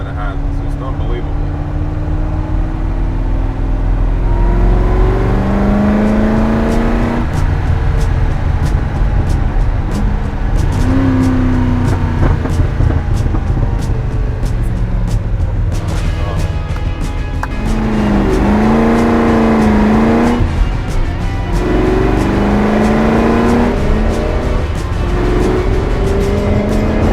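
A Ford GT40 Mk II, number four of 85 built, drives and accelerates under a loud, continuous engine roar with rising and falling pitch sweeps as it climbs through gears, heard close with occasional talk over it.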